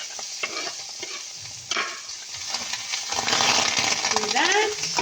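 Chopped onion frying in butter in a hot pan gives a steady close sizzle with stirring scrapes, growing louder and more crackly toward the end.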